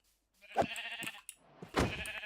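A few short Minecraft sheep bleats, fairly close and clear, with quiet gaps between them and no talking.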